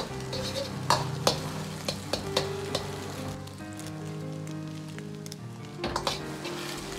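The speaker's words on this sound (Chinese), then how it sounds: "待鸡蛋液完全定型后，再用勺子划成大小均匀的块。" Scrambled eggs sizzle steadily in a hot pan while a spoon cuts and stirs them, sharp clicks of metal on the pan rising over the continuous frying hiss, close up and without speech.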